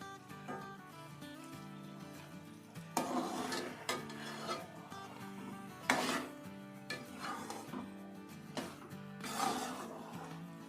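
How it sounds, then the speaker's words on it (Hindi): Eggs being slowly stirred into carrot halwa in a pan, with intermittent scraping and clinking of a spoon against the pan over steady background music. "और ये देखिए अब मैं आहिस्ता आहिस्ता हिलाऊंगी अंडों को।"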